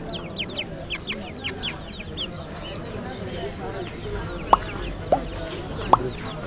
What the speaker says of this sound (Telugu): కోడి పిల్లలు ఉన్నాయి చూడండి